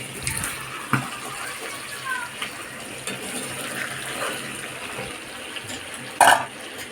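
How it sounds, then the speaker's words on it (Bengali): Water pours and splashes into a pan of browned chicken with giblets and liver cooking as kosha, a steady close gush running under background kitchen noise. "এই কষানো হয়ে গেছে এবার জল দিয়ে দেবো"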